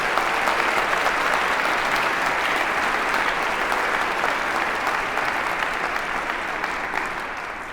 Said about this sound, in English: can we give these students just another quick round of applause for working so hard?